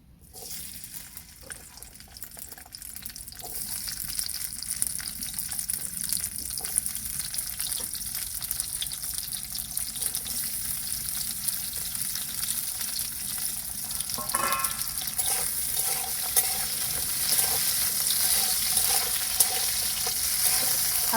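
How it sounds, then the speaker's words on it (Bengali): Hog plums (amra) frying in a little mustard oil, giving a steady, close sizzle that holds for the whole stretch and grows slightly louder toward the end, with a few faint scrapes and no talk. "অল্প তেলে আমড়াগুলো ভেজে নেব।"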